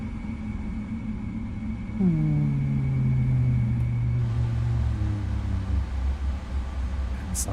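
Boeing 777 freighter engines in a flight simulator spool down with a steadily falling whine, their pitch sliding lower over several seconds while a low rumbling hum continues beneath.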